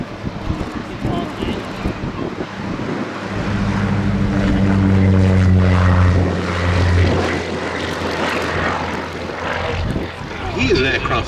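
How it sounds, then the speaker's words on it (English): Propeller aircraft flying at the Shuttleworth air show at Old Warden, its engine drone swelling to a loud pass mid-clip, then fading, with wind buffeting and voices talking over it. "Here's an aircraft that's very familiar to us here at Old Warden"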